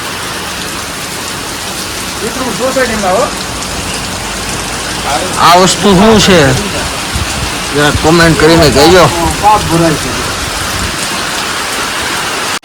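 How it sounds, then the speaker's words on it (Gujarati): Heavy rain pours down steadily at a seva kendra in Kosimpada, Dharampur, a constant close wash of drops with people talking over it in bursts. "ખૂબ સરસનો વરસાદ આવ્યો છે ભાઈ"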